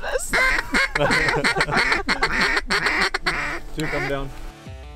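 Ducks quack repeatedly at a Pacific Northwest hunting spread at sunrise, loud harsh calls in quick overlapping bursts, close by, with some honking mixed in.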